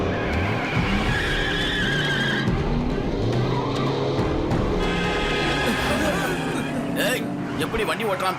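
A car driven recklessly in an animated kids' series squeals in a drawn-out tire skid amid engine noise and busy background sounds, with people talking over it.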